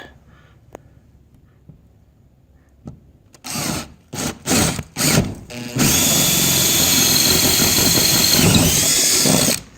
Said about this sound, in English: I'm going to go ahead and drill out these corners.